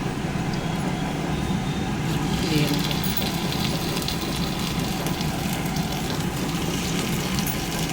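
Marinated pomfret frying lightly in a little oil, a steady close hiss and crackle of sizzling fat running evenly throughout, with a voice speaking over it.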